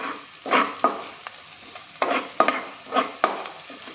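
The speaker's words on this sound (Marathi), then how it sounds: "हे बघा कांदा चांगला लालसर परतून झाला आहे" Chopped onion browning in a pan for brinjal rice, with a loud sizzle that flares each time a spoon stirs and scrapes through it, in roughly a half-dozen distinct strokes close by, without talk.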